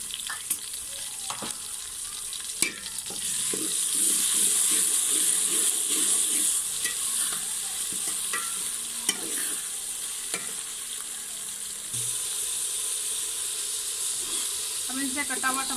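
Onions fry in a pan with crushed green chili and garlic, a steady loud sizzle and hiss throughout, punctuated by scraping stirs and occasional clacks of a spoon against the pan, close by.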